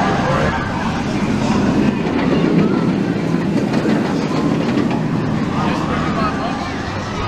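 The Flight Deck roller coaster at Six Flags Great America passes by, a rumbling, clattering rush of wheels on track building and fading over several seconds, mixed with crowd noise and faint distant screams.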